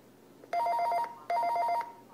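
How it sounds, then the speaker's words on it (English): An iPad rings with an incoming call: two bursts of bright electronic ringtone, each lasting about half a second, close and clear with a short gap between them. "my iPad is ringing"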